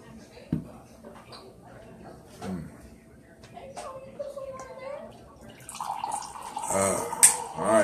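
Water poured into a container, a gurgling stream that swells near the end after a stretch of quieter room sounds and a voice.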